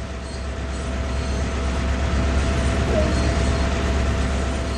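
GP38-2 diesel locomotive pulling away in Train Sim World, a steady low engine drone and rolling rumble, moderately loud and continuous with no talk.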